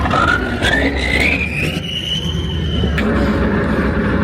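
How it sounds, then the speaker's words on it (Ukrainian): An armored combat vehicle's engine runs loudly during military basic training, a deep rumbling drone with a rising, squealing whine that climbs and then levels off. "бойовою броньованою машиною, яка постійно смикається, імітуючи рух, видає пекельні звуки і заливає вас вихлопними газами"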